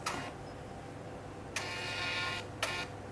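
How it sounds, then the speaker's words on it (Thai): A NIIMBOT B21 black-and-white label printer runs in two short bursts of whirring feed, the first about a second long and the second briefly after, close and clear over a quiet room hum. "ก็สั่งปริ้นนะครับนี่ปึ๊บ"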